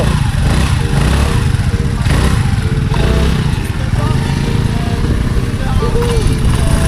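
A motorcycle engine runs loudly and steadily close by, a dense buzzing drone throughout, with someone talking over it.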